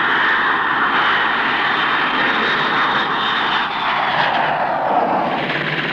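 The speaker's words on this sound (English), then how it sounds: "the famous Victor and Vulcan show their teeth" Avro Vulcan and Handley Page Victor jet bombers, powered by Bristol Siddeley Olympus and Rolls-Royce Conway engines, fly at a 1960s Farnborough airshow with a loud, steady roar of jet engines and no talking.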